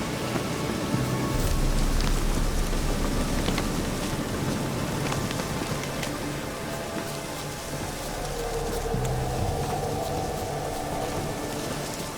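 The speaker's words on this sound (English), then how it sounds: "Looks like rain." Steady rain pours down continuously in The Witcher 3: Wild Hunt, a dense hiss with scattered drops, moderately loud with no voices.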